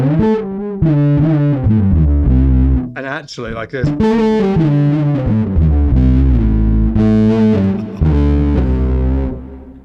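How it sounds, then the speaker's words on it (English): A bass guitar through fuzz and octave pedals plays a heavily distorted riff of thick sustained notes, with a brief pause where a voice speaks a few words before the playing resumes. "I generally use it with a fuzz actually"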